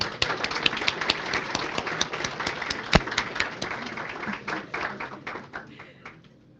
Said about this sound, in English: Let's give a second round of applause to Coach Ani.